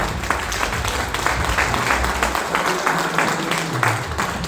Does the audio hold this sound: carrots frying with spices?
no